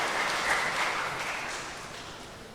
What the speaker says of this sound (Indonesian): Mari kita beri tepuk tangan untuk saudara.